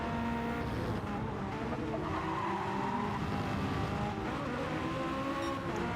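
A race car in a multi-class endurance racing video game at Road Atlanta brakes late into turn two. The engine drones steadily and loud while the tires squeal and skid under heavy braking, with no voices.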